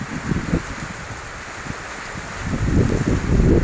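Heavy rain hisses steadily while strong wind gusts buffet close by in rough, low bursts, growing louder and more sustained toward the end.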